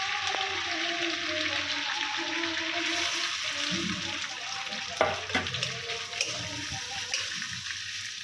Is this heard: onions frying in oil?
yes